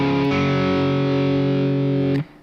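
A single distorted electric guitar chord rings out loud and close, sustaining for about two seconds before being cut off, an added part from a song.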